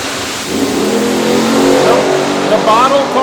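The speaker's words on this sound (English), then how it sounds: "The bottle car moving first, the blower car going to run out of racetrack?" Heads-up drag race between a nitrous Ford and a supercharged Chevy: loud, close engine roar that builds and revs hard, sustained for the whole stretch.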